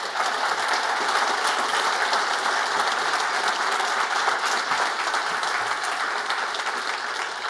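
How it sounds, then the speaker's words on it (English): Conference audience at a Laracon AU 2023 developer talk applauding, a dense, steady roar of clapping that stays loud and even throughout without any talk. "That was a good round of applause for a great talk"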